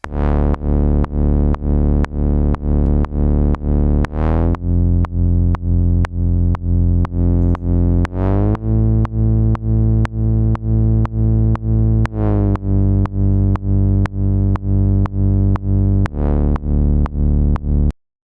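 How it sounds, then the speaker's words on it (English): A bright synth arpeggio from Serum repeats rapid even notes over a deep sustained bass, with the chord shifting every few seconds, loud and without voices. "now I'll be adding an arpeggio to my existing bass here"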